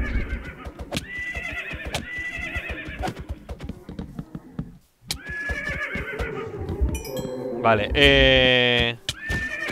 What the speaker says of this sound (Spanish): Un caballo zombie.